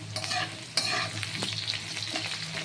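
Potatoes half-fry in oil as a spatula stirs them, giving close scraping strokes over a constant crackling sizzle, with no voices.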